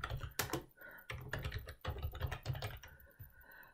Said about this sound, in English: you need to type your details in here